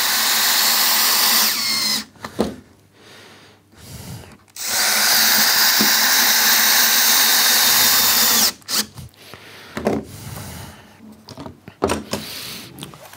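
Pilot holes are drilled into wood for a wooden boot rack with a power drill, which runs in two long, loud, steady whining bursts separated by quieter handling sounds and clatter.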